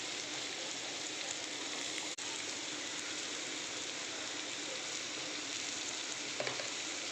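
Potatoes, onions, turmeric and coriander fry in a pan with a steady, close hiss like rain, one brief sharp click early on and a faint clink near the end.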